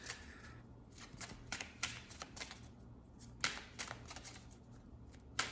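Archangel Raphael healing oracle cards being shuffled in hand, a string of crisp riffling bursts and soft slaps at an irregular rhythm, close and fairly quiet over a low steady background hum, with no one speaking.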